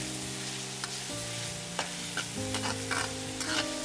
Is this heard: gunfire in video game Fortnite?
no